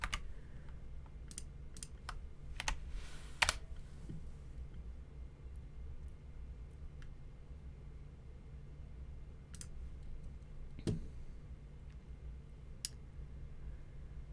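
Scattered keyboard clicks and taps during a public meeting, sparse and irregular, with a few sharper keystrokes standing out over a low, steady room hum. No one speaks.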